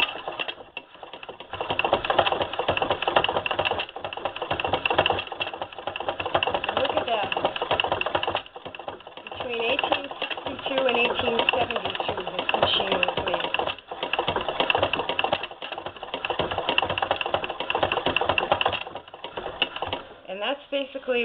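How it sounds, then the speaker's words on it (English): An 1872 Wheeler & Wilson sewing machine being treadled, a steady rapid mechanical clatter that runs with brief pauses and restarts, close and fairly loud, with someone talking over it at times. "what I'm going to do now is try and see if I can get it to treadle"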